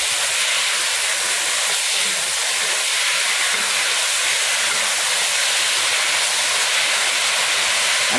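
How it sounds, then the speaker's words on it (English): Seasoned pork for a stewed pork dish added to a hot pot and stirred, giving a loud, steady sizzle with constant hiss throughout and no talk. "now is where we're going to start adding that seasoned pork to the mix here. And I'm going to give that a stir."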